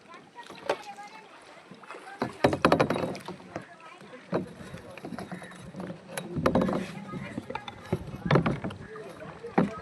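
Kayak paddles dipping and pulling through water on a mangrove forest safari in Konkan, rhythmic splashy strokes close by, with people talking over them.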